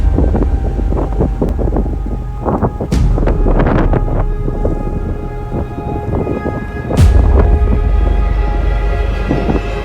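A loud hurricane thunderstorm: heavy rumbling thunder rolls under steady rain and gusting wind, with sharp cracks breaking through twice.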